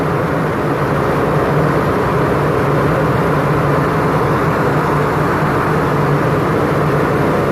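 A six-cylinder engine idles steadily with its temperature clutch fan spinning, a constant close whirring drone with a low engine hum and broadband fan rush, loud and unbroken throughout.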